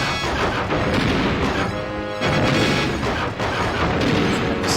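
The Armadillo boss in Donkey Kong 64 fires its cannons in heavy booming blasts with crashing impacts, loud and continuous over rumbling game background, with a short lull midway.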